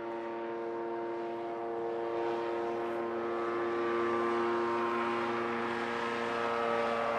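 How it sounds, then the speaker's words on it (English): A small open two-seat ultralight aircraft powered by a snowmobile engine, flying over the Galapagos Islands, gives a steady, continuous engine drone with a strong buzzing tone that holds throughout without talk. "this is a small, open, two-seat flying machine powered by a snowmobile engine"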